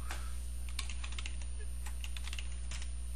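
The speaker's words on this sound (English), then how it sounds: "You type in your text." Rapid typing on a computer keyboard while entering text in a graphics editor, a steady run of close, crisp key clicks with short pauses, over a constant low hum.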